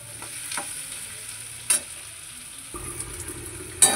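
Onions browning in a pan for a chicken dish, giving a steady soft sizzle close by, with a couple of sharp clinks of a spoon and a lower frying hiss in the last second.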